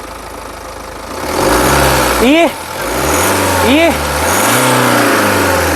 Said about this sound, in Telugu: ఒకసారి ఇంజన్ అనేది స్టార్ట్ చేసి చూపిస్తాను